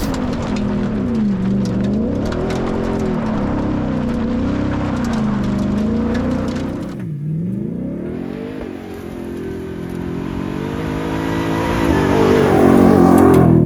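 700 hp Ford Raptor R truck doing donuts on dirt, its engine roaring loud and close with rising and falling revs throughout, swelling louder toward the end.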